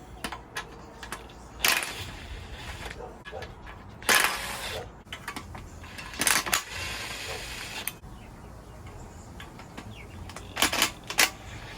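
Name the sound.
removing nuts and bolts from the engine of a 1992 Honda Civic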